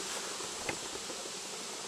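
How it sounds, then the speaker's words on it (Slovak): Honeybees hum steadily as they fly around apiary hives during a strong nectar flow with acacia trees blooming nearby, a soft continuous buzz heard alone at low level. "Včielky nám lietajú ako divé,"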